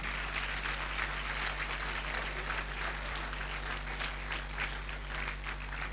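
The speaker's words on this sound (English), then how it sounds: "Please make that clap louder." Audience applause at a university induction and oath-taking ceremony after a presentation, a steady dense wash of many hands clapping throughout, with a constant low hum underneath.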